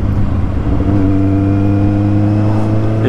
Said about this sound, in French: quand je vais en haut régime, dès que je coupe le gaz, ça fait un gros patch